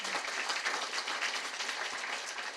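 Dense, steady applause from a seated audience at an awards event, a continuous wash of many hands clapping at once at moderate volume, with no talking over it.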